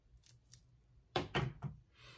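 A few crisp scissor snips cut open packaging in quick succession, close and fairly loud against a quiet background.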